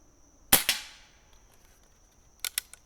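A Crosman 1322 Backpacker air pistol fired with open sights: one sharp, close crack with a quick follow-up snap, a pause, then a short cluster of two or three lighter clicks, with no talking.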